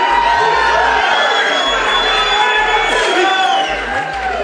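A loud crowd at a Donald Trump forum cheers and whoops continuously, a dense roar of shouting voices filling the space.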